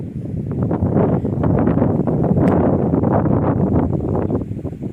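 Strong wind gusts steadily across a lake near Silalahi village, roaring into the microphone with a broad rushing noise that may hide the choppy waves beneath, loud and unbroken with no voices.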